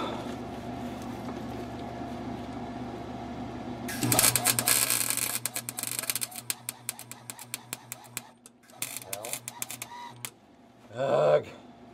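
Wire-feed welder crackling on an Astro van rear differential: a low hum gives way to bursts of sharp spattering crackle that stop and start in short runs, with a brief louder burst near the end.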